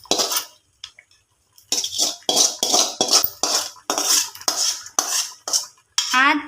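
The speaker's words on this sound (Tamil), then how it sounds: "இதை குழம்புல ஆட் பண்ணி தாளித்து வச்சுருக்கிறத குழம்புல ஆட் பண்ணிக்கலாம்" A metal spoon scrapes and clanks against a pot as tempering is added to fish curry and stirred in. Repeated loud strokes sound close up, with brief pauses between them and no speech.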